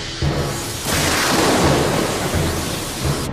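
A cartoon thunder effect for a geomagnetic storm, a sustained rumbling roar over rain-like hiss, loud and close, swelling midway and holding steady for several seconds.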